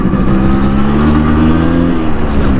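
A Yamaha RX 100 motorcycle riding fast, its engine droning loud and steady with a strong sustained growl held close throughout.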